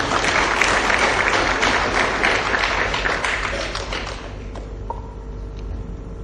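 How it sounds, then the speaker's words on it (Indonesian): An audience at a motivational business talk applauds, a dense, steady wash of many hands clapping close by that holds for about four seconds and then fades to a few scattered claps and room noise. "Berikan aplaus untuk Anda."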